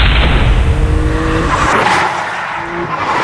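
A Greddy twin-turbo Nissan 350Z drives hard and close, its engine roaring loudly and continuously with what sounds like tire noise, then easing slightly in level toward the end.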